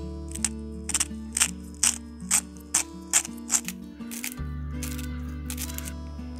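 A hand-held salt grinder is twisted to season biltong meat, giving a quick run of crisp, rhythmic grinding clicks over a low steady background hum.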